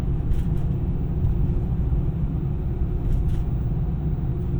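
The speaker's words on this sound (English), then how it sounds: "There's a little more road noise with these tires." Steady low tire and road rumble inside a moving 2025 Ford Maverick Tremor, a broad continuous roar with no breaks, no one talking.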